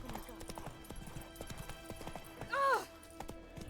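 A horse gallops in the video game Witcher 3, its rapid rhythmic hoofbeats running throughout, with a short neigh near the end.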